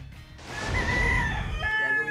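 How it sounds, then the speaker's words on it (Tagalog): Fighting cocks crowing on a Bulacan farm that keeps some 300 gamefowl, one long, loud cock-a-doodle-doo rising and holding, with other birds faintly clucking and calling behind it. "Sa Bulacan, matatagpuan ang farm ni Sonza. Hindi bababa sa 300 ang mga manok niyang panabo."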